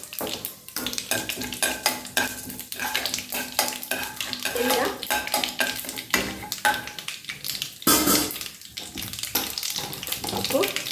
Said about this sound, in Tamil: கடுகு, உளுத்தம்பருப்பு, சீரகம் இது எல்லாம் பொரிஞ்சதுக்கப்புறம்